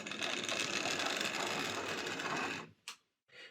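A Tri-ang R553/4 Caledonian Railways Single 4-2-2 model steam locomotive runs with a steady, grindy mechanical whirr, loud and close, then cuts off abruptly, leaving a brief click and a short resumed burst.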